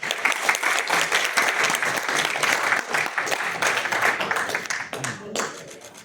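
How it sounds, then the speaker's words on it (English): An audience at a press conference on medical cannabis legalization in the Philippines gives sustained, dense applause to welcome a speaker. The clapping is loud and steady, fades slightly near the end, and a voice may be faintly audible beneath it. "Let us give a big, big hand to a global cannabis expert, Dr. Shiksha Gallow."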